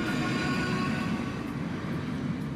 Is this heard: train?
yes